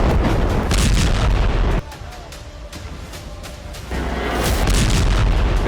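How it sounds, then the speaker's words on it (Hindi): Heavy Israeli bombardment of Gaza at night in news footage: a continuous loud, rumbling roar of blasts and booming impacts, dropping to a quieter stretch midway before the dense thunder returns. "उत्तरी गाजा से दक्षिणी गाजा तक बीती रात इजरायली सेना की भीषण बमबारी ने कोहराम मचा दिया"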